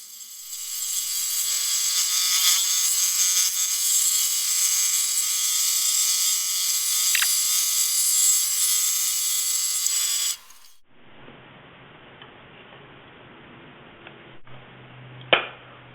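A scroll saw cuts a toothed wooden hinge with a loud, continuous buzzing drone for about ten seconds, then stops abruptly, leaving quieter low background sounds and a single sharp knock near the end.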